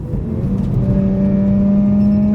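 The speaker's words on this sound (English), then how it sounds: "maybe you don't want to downshift around a corner though, so don't do what I just did" Mazda RX8 engine revving hard through a downshift while cornering, a loud steady rotary drone with rising and then held pitch filling the whole short burst, no talking.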